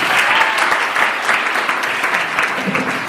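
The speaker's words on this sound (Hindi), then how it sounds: "सर जी के लिए जोरदार तालियां।" An audience at an entrepreneurship seminar applauds loudly with dense, continuous clapping that carries on steadily with no talk over it.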